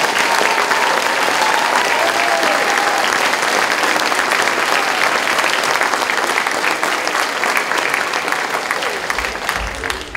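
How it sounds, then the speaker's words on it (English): Parents and guests at an elementary school first-grade Veterans Day program clap for the children, a loud, dense round of applause filling the room and easing off near the end, with some voices mixed in. "Let's give them a round of applause for all their help"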